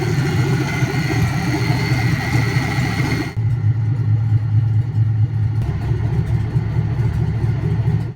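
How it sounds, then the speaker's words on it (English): An LS V8 swapped into a Lexus SC400 with LSA exhaust manifolds idles steadily and loudly up close, a continuous low rumble with a brief dip partway through. "The engine runs, it idles"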